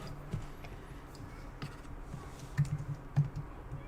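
Quiet computer keyboard typing during coding work, scattered soft key clicks with a few louder taps, irregular rhythm, close and faint over light room noise.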